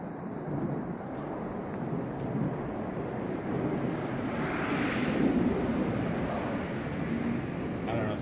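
An F-16 jet fighter passes overhead, a loud sustained roar that swells slightly toward the middle, with a person talking over it outdoors.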